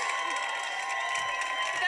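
A crowd at the US Open tennis tournament in New York cheers and applauds Emma Raducanu, a steady roar of voices and clapping that fills the whole moment.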